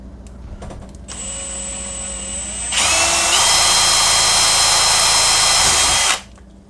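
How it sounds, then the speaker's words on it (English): A power drill whirs up, then rises to a louder, higher-pitched whine as it bores into material for several seconds before stopping abruptly. "We're going to take a drill and drill a hole in it."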